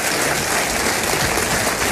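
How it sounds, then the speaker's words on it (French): Loud, dense audience applause for a young finalist at a talent contest final, an unbroken wash of clapping from a large crowd throughout. "On peut l'applaudir encore une fois, s'il vous plaît."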